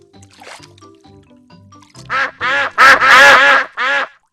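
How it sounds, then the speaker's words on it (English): Cartoon ducks in a Peppa Pig bird food game give a run of loud, close quacks, four or five nasal honks in quick succession, after softer squelchy game sounds. "These ducks are hungry."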